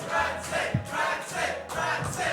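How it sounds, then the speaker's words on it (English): Crowd at a CTWC UK Regional Tetris tournament bracket match cheers loudly in rhythmic surges, about three swelling bursts of many voices that rise and fall. "the crowd on the match is arena. Going wild."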